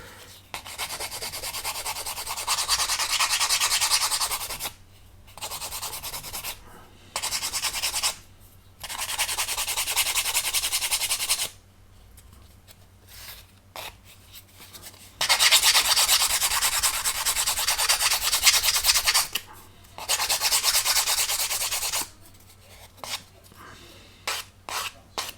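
A small part from a Miniart 1/48 Junkers F13 plastic model kit is sanded by hand in repeated bursts of close, raspy rubbing, each a few seconds long and separated by short pauses.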